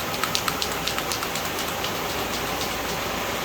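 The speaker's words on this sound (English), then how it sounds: "Here comes the rain." Steady rain hisses evenly across the whole stretch, with a few louder drops pattering near the start before it settles into a constant wash, no voices present.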